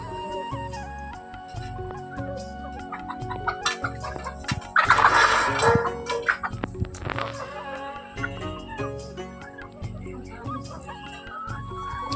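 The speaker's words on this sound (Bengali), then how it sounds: "এই মুরগিগুলো এরা মোটামুটি সবই খায়" A flock of Sonali chickens cluck and squawk together on a poultry farm, with a louder burst of calls midway, while a person talks over them.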